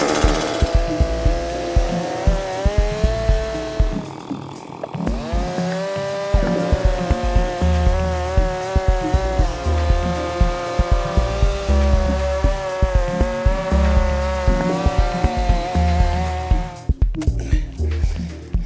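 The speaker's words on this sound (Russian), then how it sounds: "В данной ситуации бензопила, мы себе жизнь облегчим" Petrol chainsaw cutting through a dry log stump outdoors, a loud, steady engine drone with revving surges as the chain bites, running nearly continuously with a brief drop near the middle and another near the end.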